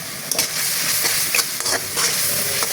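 Spices frying down with water and salt for a mixed-fish curry, a dense close hiss of sizzling with sharp bursts as a spoon stirs and scrapes through the masala in the pan.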